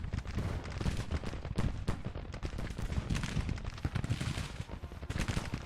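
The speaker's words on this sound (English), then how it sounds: "Point blank volley." Point-blank musket volley in the Grand Tactician Civil War strategy game, a dense continuous crackle of overlapping rifle shots with distant booming battle noise, loud and unbroken throughout.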